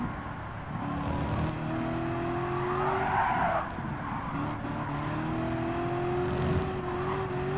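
Race cars in Gran Turismo 7 during an American FR Challenge race with a Ford Mustang and modern muscle cars, engines droning steadily up close with rising and falling revs and a brief tire squeal midway through.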